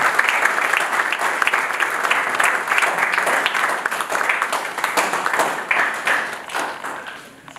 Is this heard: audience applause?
yes